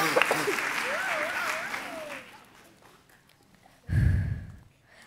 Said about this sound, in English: Please join me in giving a big round of applause for Dr.